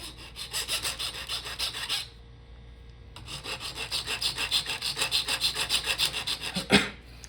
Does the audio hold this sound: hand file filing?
yes